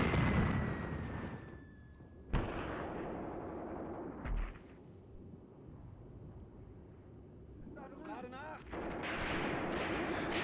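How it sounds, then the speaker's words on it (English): Mortar rounds landing on the rear slope of a hill in the Graviteam Tactics war game, with a couple of sharp booms over a steady rumble of battle and distant gunfire, while a voice talks over the action. "We've got again our mortars coming in on the rear slope of the hill."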